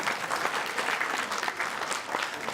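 An audience breaks into brisk, steady applause at a cultural event, many hands clapping together at close range with no talk over it.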